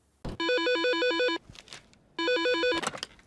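An electronic telephone ringtone plays two bursts of a bright warbling trill separated by a short gap, with faint rustling noises between them.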